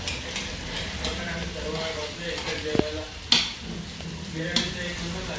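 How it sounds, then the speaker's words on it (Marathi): Onion sizzling and being stirred in a pan with ginger-garlic paste, ground masala, turmeric and salt, a steady frying hiss with a few sharp utensil knocks against the pan; a voice talks faintly underneath. "आता हा पण ब्राऊन होऊन देऊया कांदा"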